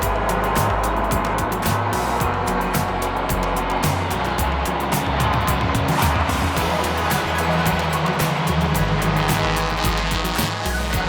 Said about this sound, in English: TCR Spain came out for one last quick race,